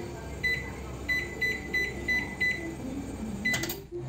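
Microwave oven being set to 180 degrees for 25 minutes to bake garlic bread: a string of short, high keypad beeps in an uneven rhythm over a faint room hum, quiet and close.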